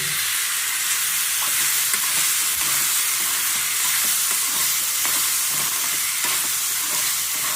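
Brown rice is stirred and fried in a hot pan, giving a steady, close sizzle with soft scraping from the stirring throughout.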